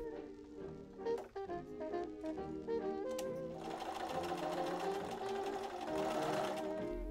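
A sewing machine seams the neck and armhole facings of a 1940s Vintage Vogue dress, its motor humming close and steady with a rapid needle rattle, briefly easing before running continuously.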